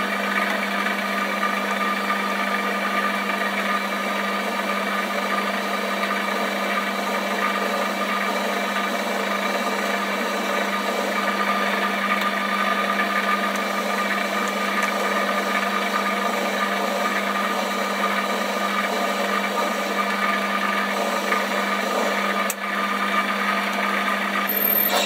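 A lathe runs at a steady pitch with a constant machine whine and hum as an 8mm drill bit bores lengthwise through the metal, no voices.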